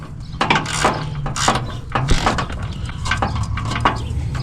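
Ratchet wrench clicking in repeated bursts while loosening the drive belt tensioner on a 2002 Toyota Tacoma 2.7L, close and fairly loud, the pawl chattering through each short stroke.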